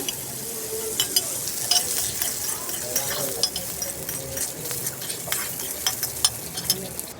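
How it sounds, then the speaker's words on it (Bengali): Pointed gourd (potol) frying in oil in a pan, a steady crackling sizzle with scattered clinks and scrapes of stirring throughout. "পটলটা একটু সুন্দর করে ভেজে নিলে খাইতে অনেক"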